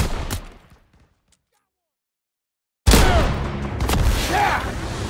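Gunfire at machine-gun nests in a World War II Call of Duty mission: a burst at the start, nearly two seconds of silence, then loud renewed shooting and battlefield noise with shouted voices.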